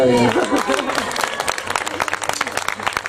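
Applause at a live concert in San Salvo, a scattered crowd clapping near and far that rises after a voice over the opening and continues in uneven bursts.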